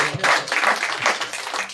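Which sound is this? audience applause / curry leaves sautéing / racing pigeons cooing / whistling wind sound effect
audience applause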